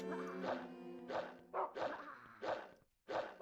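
Dog barking in the PS2 game Rule of Rose, a series of short bursts in uneven rhythm with brief gaps, fairly close and clear, with no talk over it.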